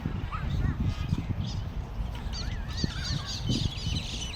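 Birds call out in squawks and honks amid scuffling and movement as they are chased, close by, with some background voices.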